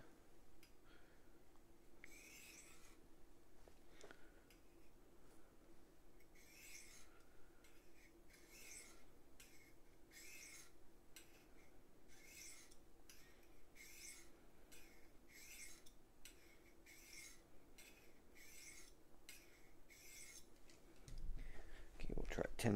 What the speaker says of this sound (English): we're going to try a few passes on the diamond